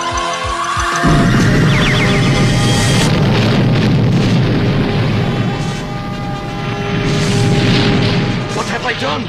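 A cartoon explosion destroys a castle with a loud, sustained booming roar of crashing debris and rumbling that swells again near the end, with voices briefly heard.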